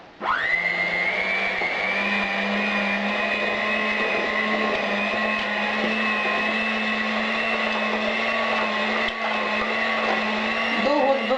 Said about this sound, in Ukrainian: Всипаю цукор в сметану і буду збивати.